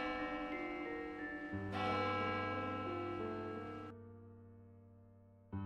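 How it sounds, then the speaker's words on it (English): A deep church bell in a video game tolls with long, ringing overtones that swell and slowly decay, heard alone over a faint steady background. "The solemn church bell rang."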